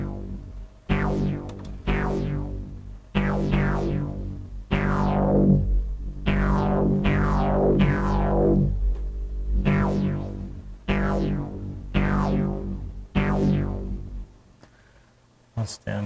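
Synthesizer notes from a Moog One play through a ping pong delay, each plucked tone followed by fading repeats in a steady rhythmic sequence. The notes are clear and moderately loud and sustain over a low held drone.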